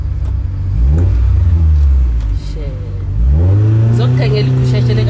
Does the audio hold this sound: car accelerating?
yes